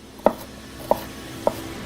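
Three sharp knife chops on a cutting board during Thanksgiving cooking, evenly spaced about half a second apart, close and crisp against a quiet kitchen background.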